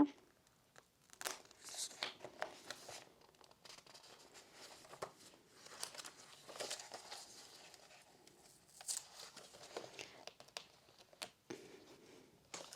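Large sheet of floral wrapping paper handled up close, producing irregular crinkling, rustling and papery crackles in scattered bursts, with faint talk now and then.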